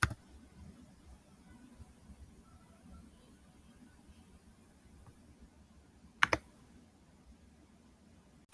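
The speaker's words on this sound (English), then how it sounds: "So now on my keyboard, I will do" Control-X is pressed on a computer keyboard, heard as a quick pair of faint, close clicks in an otherwise quiet room.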